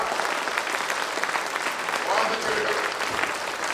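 Audience applause at a Hindi poetry recitation, a dense, continuous clapping from a crowd with a voice faintly heard over it partway through.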